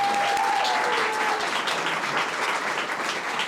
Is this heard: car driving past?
no